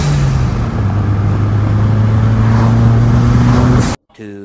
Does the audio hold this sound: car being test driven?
yes